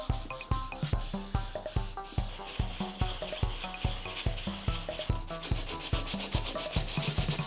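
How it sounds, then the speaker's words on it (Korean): Sandpaper rubbed over the edges of a layered wooden piece in rapid, regular back-and-forth strokes, close and crisp, with no voices. "모서리 만지시다가 다치시지 말라고 자 이렇게 사포질까지 해서"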